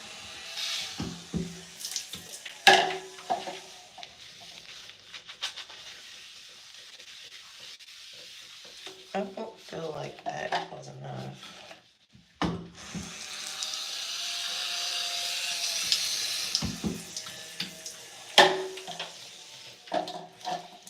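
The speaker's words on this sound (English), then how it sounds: "So I'm going to put water in this first section." Water being sprayed and worked into a section of curly hair: hissing spray bursts and wet rubbing, squishing sounds close up, with sharper handling clicks and no talking.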